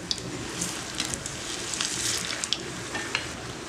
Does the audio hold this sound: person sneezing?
no